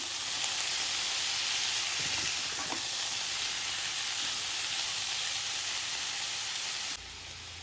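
Chopped tomatoes and green chillies sizzle in spiced masala for a Punjabi taro dish, a loud, steady, close frying hiss with faint stirring scrapes that drops suddenly in level near the end.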